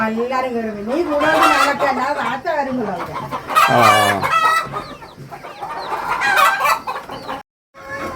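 Country hens and a rooster on a home poultry farm, with several close clucks and squawks and one loud crow in the middle, over faint background sounds.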